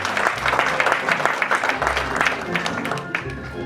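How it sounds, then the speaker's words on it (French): Audience applause at a French children's stage show: a sustained, fairly loud patter of many hands clapping, with voices mixed in throughout. "Applaudissez, Geoffrey."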